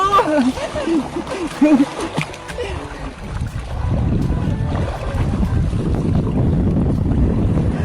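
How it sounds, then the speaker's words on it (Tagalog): A strong current of cold water rushes around someone standing in it, with a loud, steady churning roar and wind buffeting the microphone. An excited voice calls out early, then the flowing water dominates. "Ang lakas ng agos, guys!"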